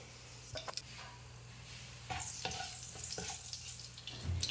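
Ground cinnamon, cardamom, clove and black pepper tipped into hot oil for a beef stew curry, giving a close, steady sizzle with a few stirring scrapes and bursts of crackle, no voices.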